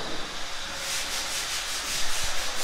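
Steady, continuous sanding hiss in a bedroom of a house under construction, with a gentle rhythmic back-and-forth swell, close and fairly loud, no voices.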